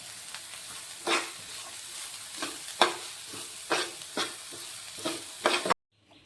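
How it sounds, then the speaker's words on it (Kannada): Finely chopped onion and coriander sautéing in a pan, a steady sizzle punctuated by about six loud, close stirring scrapes at irregular intervals before it cuts off abruptly. "ದೊಡ್ಡದೊಂದು ಉಳ್ಳಾಗಡ್ಡಿ ಸಣ್ಣಗೆ ಹೆಚ್ಚಿಟ್ಕೊಂಡೇನಿ ರೀ. ಅವೇನು ಪೂರ ಕೆಂಪು ಆಗ್ಬೇಕಂತ ಏನಿಲ್ಲ ರೀ, ಸ್ವಲ್ಪ ಸುಟ್ಟರೆ ಸಾಕು ರೀ. ಕೊತ್ತಂಬರಿನೂ ಇದ್ರಾಗ ಹಾಕಿ ಸ್ವಲ್ಪ ತಿರುಗಾಡೋದು"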